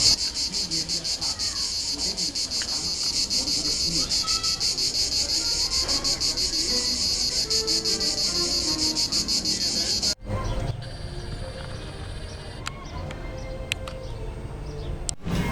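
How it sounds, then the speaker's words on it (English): Loud cicadas at the Movieland theme park in Italy make a steady, piercing, high buzzing drone that fills most of the clip before dropping away, with faint background activity beneath. "the cicadas really were that loud"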